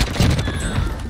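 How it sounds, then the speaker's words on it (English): A quick burst of gunfire from Warzone, loud and close, packed into about a second of rapid overlapping shots. "Shots."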